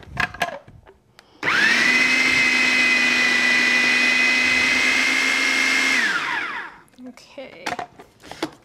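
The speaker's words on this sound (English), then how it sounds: "All right, let's get everything blended." A blender runs steadily for about five seconds, whirring loudly as it purees a thick, creamy spinach artichoke quiche base, then winds down, with brief kitchen clatter before and after.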